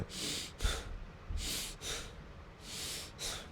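A person imitates shallow breathing with quick, short little breaths, about six rapid airy puffs in a steady rhythm, close and clear with no talking.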